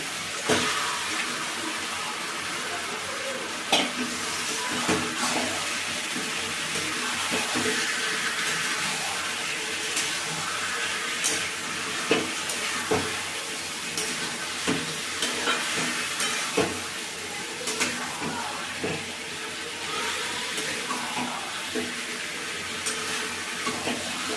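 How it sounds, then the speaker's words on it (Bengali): Chicken seasoned with oil, salt, turmeric and lemon juice sautéing steadily in a pan, a continuous sizzle broken by frequent scraping stirs and light clinks throughout, close and even with no talking. "ভালো করে মাংসটা 10 মিনিট 12 মিনিট ধরে কষে নেবো।"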